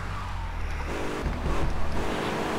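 A car engine droning steadily in the game GTA 3, a continuous loud motor hum with slight swells as it drives along, no talking.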